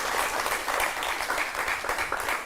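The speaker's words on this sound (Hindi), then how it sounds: "जोरदार तालियों के साथ उनका स्वागत करें" Audience welcoming a guest, a BJP Rajya Sabha member, with loud applause: dense, continuous clapping from many hands, close and steady for the whole stretch, without speech.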